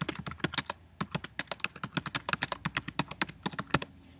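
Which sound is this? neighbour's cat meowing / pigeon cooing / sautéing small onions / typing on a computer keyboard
typing on a computer keyboard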